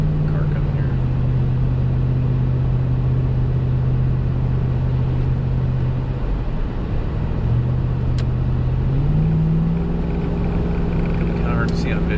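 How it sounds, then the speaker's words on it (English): Passing car on a dark road at night, heard from inside a 2004-2008 Ford F150 pickup: a steady, loud engine and road drone fills the whole stretch, with the low hum shifting in pitch partway through. "Car coming here."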